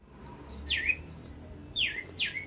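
A sunbird at its nest in a terrace garden in Tiruvannamalai gives three short, sharp chirps, one alone and then a quick pair, over faint background hum.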